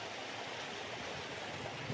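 Steady, continuous flowing water of a natural stream, an even broadband rush that holds at a constant moderate level for the whole stretch with no voices.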